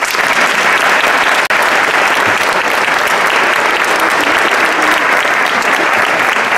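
Audience applause at a New Year concert gala, a loud, dense and steady clapping from a large crowd that continues throughout without pause.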